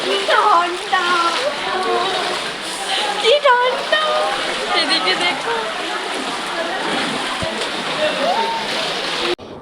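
Rushing water from a waterfall fills the scene with a constant close splash and roar while someone wades knee-deep through cold water and people chatter and shout over it.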